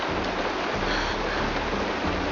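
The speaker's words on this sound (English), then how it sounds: "The rain! It's raining!" Steady rain falls in the Honkai Star Rail video game, a dense even hiss with a low rumbling layer underneath, continuous and fairly loud with no talking.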